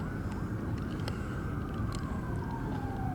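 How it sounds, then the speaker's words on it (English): Wailing emergency vehicle sirens sweep up and down over a dense rumble of traffic and engines, approaching from a distance in an outdoor crowd setting, with scattered faint clicks and noises around. "it's the sounds of sirens and horns"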